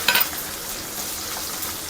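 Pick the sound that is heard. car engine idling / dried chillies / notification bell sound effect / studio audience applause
dried chillies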